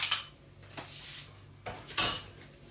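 A utensil clinks and scrapes against a bowl while a yeast mixture is stirred, with two sharp knocks at the start and another near the end, separated by softer mixing sounds.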